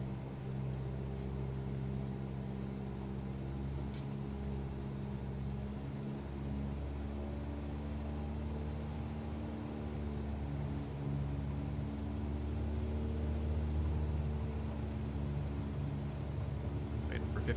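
Cessna 172SP engine throttling up in a flight simulator, a steady droning propeller hum with layered harmonic tones that builds gradually over many seconds, with occasional speech over it.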